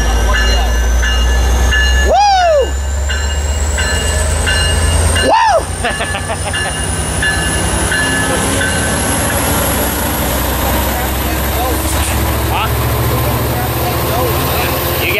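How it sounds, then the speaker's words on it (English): A Surfliner passenger train pulls away from the station with a steady heavy rumble and clatter of wheels. Two loud horn blasts sound close by, and voices can be heard over the noise. "here comes 461 about to depart out of Ocean City."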